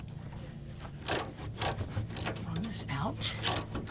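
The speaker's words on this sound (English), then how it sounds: "Flex head ratchets can be a pain in the backside sometimes." A flex head ratchet clicks in short, quick bursts while it runs a fastener out during rear coil spring work on a 2013 Ram 1500 4x4, quiet and close, with someone speaking briefly.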